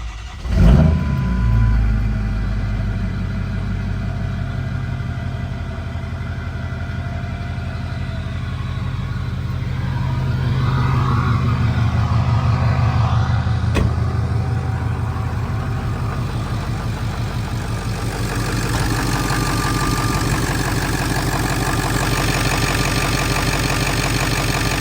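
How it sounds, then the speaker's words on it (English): A 6.0-liter Powerstroke diesel in a 700 hp dually truck cranks and fires at the start, then settles into a steady, loud, close rumbling idle with a slight rise in revs later on, with no voices. "Hopefully the old 6-liter here starts."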